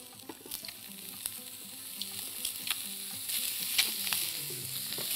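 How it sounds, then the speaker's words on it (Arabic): Sausages dropped into a hot frying pan sizzle and spit steadily, close and continuous, with small pops and a few stirring scrapes, and no voices. "نبتدي بقى نرمي السجق بتاعنا في الطاسه عشان يتشوح التشويحه الحلوه"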